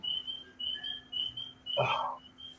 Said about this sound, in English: It's some new bird that decided to just show up and raise hell tonight.